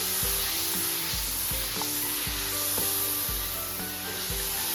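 Kofta curry masala with yogurt frying in a pan, with a steady loud sizzle throughout and regular stirring scrapes every half second or so, close and continuous.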